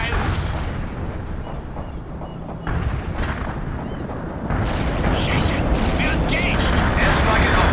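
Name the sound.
airstrike bomb explosions in World in Conflict video game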